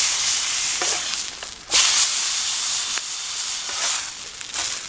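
Steak sizzles loudly over heat on a camping stove, a dense, close hissing fry that swells and pops in bursts over nearly five seconds, with no talking.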